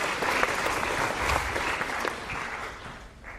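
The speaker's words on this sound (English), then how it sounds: "A round of applause for our two feistier players." Lecture hall audience applauding two students in a game theory class, a sustained wash of dense clapping that fades slightly toward the end, with no talk over it.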